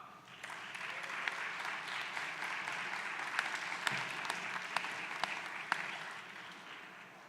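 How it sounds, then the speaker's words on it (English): An audience at an engineering recognition ceremony claps in sustained, even applause filling the room, with a few sharper individual claps standing out. "I didn't even have to tell you to clap for everybody."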